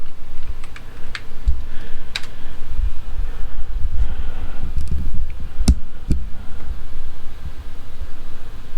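Scattered keystrokes tapped on a computer keyboard while entering a boot command on a Power Mac G3, faint irregular clicks over a steady loud hum of fan and background noise.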